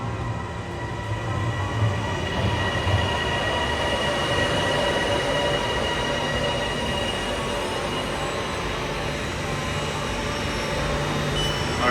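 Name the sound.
train arriving to go to Suvarnabhumi Airport, Bangkok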